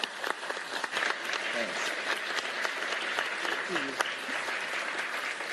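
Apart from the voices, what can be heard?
applause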